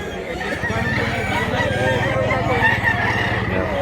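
Roosters and gamecocks for sale at a market in Mantalungon, Cebu, crow and cluck close by in an ongoing, fairly loud chorus with overlapping calls and a low murmur of voices beneath.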